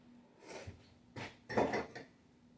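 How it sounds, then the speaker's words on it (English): Dishes from a home kitchen on a woodland homestead, plates, forks and cups after fried chicken breast, are washed, giving a few soft clinks and clatters in short bursts, then a louder cluster of knocking near the end. "got just a few dishes to do."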